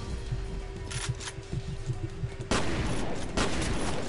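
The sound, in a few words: shotgun fire in F.E.A.R. video game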